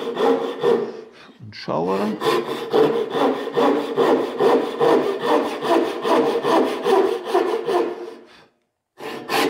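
A hand saw cuts wood across the grain in steady back-and-forth strokes, loud and close, with a brief spoken remark before a short pause and the sawing resumes.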